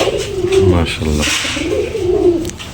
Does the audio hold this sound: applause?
no